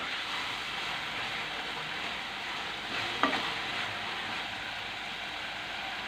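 Egg and tomato curry sizzling in a pan, a steady close frying hiss that continues evenly, with a single brief stirring scrape near the middle, no talking.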